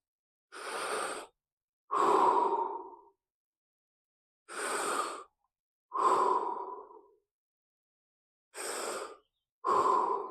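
Six deep breaths through the mouth during a slow spine fascia exercise, each a loud close breathy rush in three pairs of inhale and longer exhale, separated by silence.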